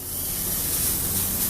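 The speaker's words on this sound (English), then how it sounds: "And you want to hear that sizzle." A steak sizzles in a lightly oiled pan, giving a steady bright hiss that carries on loud and unbroken with no voices.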